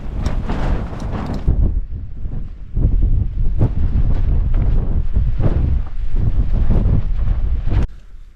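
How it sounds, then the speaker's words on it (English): Strong wind gusts buffet a three-season tent at a winter wild camp at Pavey Ark in the Lake District, roaring in close, uneven surges with sharp flaps and bumps. "This wind has not really stopped, and I'm hoping it doesn't get any worse"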